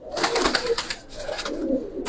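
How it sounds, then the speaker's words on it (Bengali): Pigeons of fancy and racer breeds such as Giribaz coo in soft, repeated throaty bursts close by, two short phrases separated by a brief pause. "দুইটা নর কবুতর"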